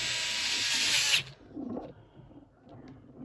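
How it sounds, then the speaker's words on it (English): A power driver whirs for about a second, tightening a screw on a Traxxas T-Maxx 3.3 RC truck axle, then stops, leaving faint handling noises close by. "we're going to stick the screw in and just tighten it down"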